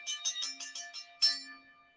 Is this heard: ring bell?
yes